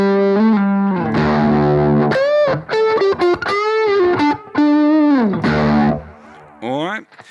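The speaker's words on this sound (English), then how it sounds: "We've got a fuzz in here." Distorted fuzz guitar through a BOSS GT modelling a Fender Twin combo amp, a run of loud sustained notes and short bent phrases with gaps between them, played alone.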